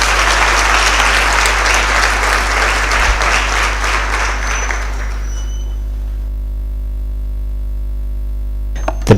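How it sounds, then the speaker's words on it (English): Audience applause for someone speaker, an author, at a communication studies and public relations programme event, sustained and dense for several seconds, then fading out into room hum with a brief clatter at the end. "Ladies and gentlemen, let's give her a big round of applause."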